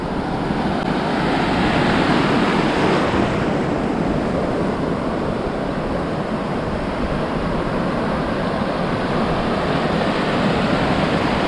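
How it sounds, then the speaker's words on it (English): Atlantic Ocean waves roll onto a beach in a continuous broad roar, swelling louder early on and then settling, with some wind buffeting the microphone. "How many of you could just sit here all day watching these waves roll in and seeing that constant change and listening to that beautiful sound?"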